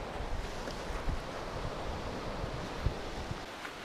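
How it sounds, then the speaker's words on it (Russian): Wind blowing across a rocky seashore bay in Crimea, a steady rushing buffet with gusty low rumbles against the microphone and the wash of surf underneath, with no talking. "А здесь ветерок пошел, из-за скалы вышел."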